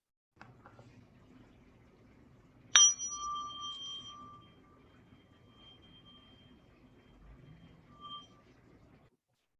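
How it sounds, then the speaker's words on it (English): A meditation bell rung once to open a practice period, a single sharp strike followed by a clear tone that lingers and slowly fades over several seconds in a quiet room. "I'm going to ring the bell to start our practice."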